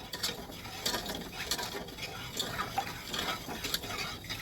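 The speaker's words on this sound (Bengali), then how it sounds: "এবার ভালো করে চিনিটাও এর সাথে মিশিয়ে দেবো" Sugar being stirred into a mixture for a jelly cake, a close, rapid rhythmic scraping and clinking of a spoon or whisk against a bowl, steady throughout with no talking.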